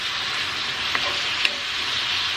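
Pork sizzles and fries in lard in a home pan, giving a steady, dense hiss with a couple of faint clicks of stirring. It sounds close and constant, with no voices.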